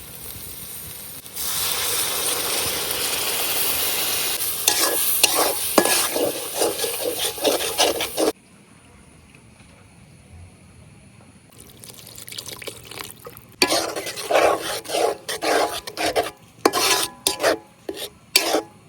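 Spices (chili, turmeric, coriander and cumin powder with salt and onion) are stir-fried in oil for a village-style black rooster curry, with a loud sizzling hiss, a quieter pause, then bursts of rhythmic scraping and stirring close by.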